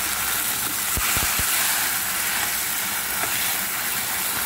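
Spinach tipped into a pan of frying onions and green chillies for a South Indian keerai kadaiyal, giving a steady, loud, close hiss of sizzling with a few soft knocks early on.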